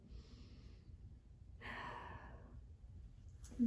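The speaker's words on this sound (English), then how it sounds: "Take 2 breaths." Children in a yoga session resting in child's pose and taking deep breaths, soft sighing exhales with a louder breath in the middle, faint and close.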